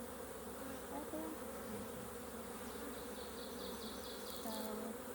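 Honeybees hum steadily around an open hive box during an inspection, a close, continuous buzz with a few brief higher whines as individual bees pass near.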